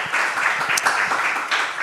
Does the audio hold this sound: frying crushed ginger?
no